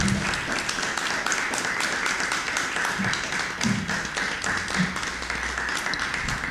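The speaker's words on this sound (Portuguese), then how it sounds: "Vamos aplaudir a Micheline?" An audience applauding author Micheliny Verunschk at a literary event, dense steady clapping from many people sustained throughout, close and full.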